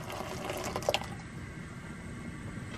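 Water pours steadily into a pot of Surinamese yellow split pea dahl, a continuous splashing wash with a brief brighter splash near the start, then settling into a softer, even flow.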